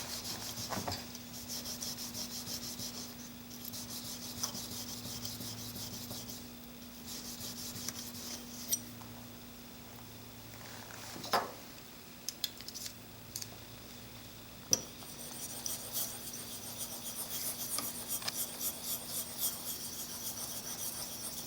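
A Blum hand plane blade honed on a sharpening stone, a faint steady scraping rub with a low hum and occasional clicks, close and quiet.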